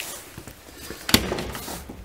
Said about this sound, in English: So I'm gonna open the door.